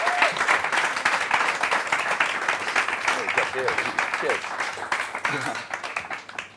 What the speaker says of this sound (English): Guys, give a huge round of applause from Ricky Knox from Tandem Bank.